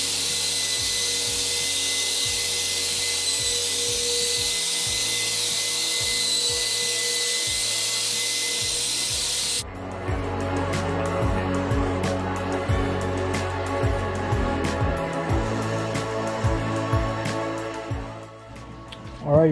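A 3018 Pro CNC router spindle carving a workpiece, starting with a loud steady high whine, then dropping to a continuous grinding, rubbing cut with repeated low thumps as the bit moves through the material, close and sustained.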